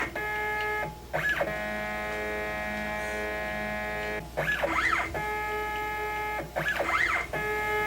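CNC router running an auto-leveling program on a circuit board etch, a steady electronic whine and hum repeatedly broken by short rising and falling stepper-motor sweeps as the spindle moves.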